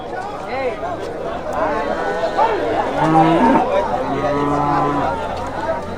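Native cattle at the Vaniyambadi livestock market in Tirupattur district give long, low moos over the bustle of the crowd, with people chatting nearby and the calls carrying clearly above the background noise.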